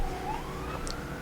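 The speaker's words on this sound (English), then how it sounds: "More sirens!" Sirens from emergency vehicles in a documentary about a private zoo, with a rising and falling wail that sounds moderately loud over a steady background for just over a second.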